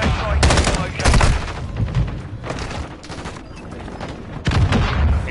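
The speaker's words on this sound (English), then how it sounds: "Hostile airstrike in the location." Repeated heavy explosions from a hostile airstrike pound down during a Call of Duty Warzone match, loud bursts of booming impacts and crackling gunfire rolling in waves with brief lulls between.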